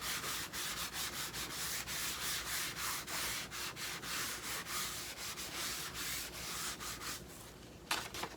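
Steady, continuous rubbing of a paper towel across a surface on a thrifted piece being refinished, close and dry, a brisk scratchy texture that runs unbroken before easing off at the end.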